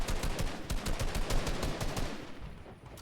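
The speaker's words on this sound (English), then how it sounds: "Shots still fired" Rapid automatic gunfire in a Fortnite trios playoff match, a dense unbroken stream of loud shots that fades slightly toward the end, with no talking over it.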